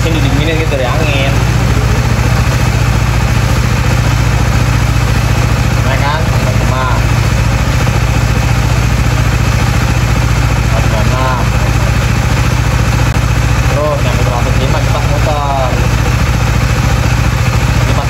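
A motorcycle engine idles with its thermostat removed during an overheating test, a constant loud drone that runs steadily beneath people talking nearby.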